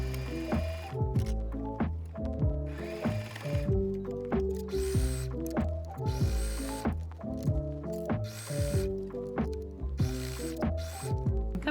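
A sewing machine runs steadily, stitching a seam on a scrap-fabric basket, its rhythmic mechanical clatter close and continuous with brief changes in pace.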